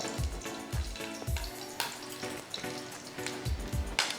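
Black cumin seeds and slit green chillies hit hot oil for a Bengali shorshe ilish tempering, giving a steady close sizzle with repeated low thuds and spatters throughout, no talking.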